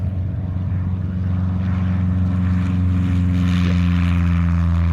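A small propeller airplane revs up its engine on the airport tarmac in Morristown, Tennessee, producing a loud, steady droning buzz that swells slightly, with no voices.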